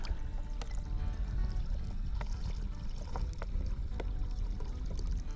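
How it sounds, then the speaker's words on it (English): Cold water pours steadily into a bowl for homemade bread dough at a camp setup. It is a continuous close trickle over a low rumbling background, with faint clinks, and no talking. "I've got some cold water here, so I'll just do a bit of blending until I get the temperature right."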